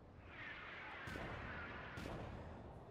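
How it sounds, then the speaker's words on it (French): Cannons fire during an anime battle, with two heavy booms about a second apart ringing out over a continuous roar of distant battle noise. "On entend des tirs de canon"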